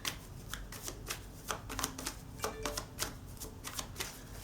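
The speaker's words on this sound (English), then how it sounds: "I'll shuffle one more time" Tarot cards are shuffled by hand in a steady run of soft, crisp riffling flutters, close up and quiet, with no voices over them.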